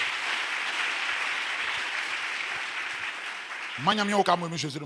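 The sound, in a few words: congregation applauding and acclaiming the Lord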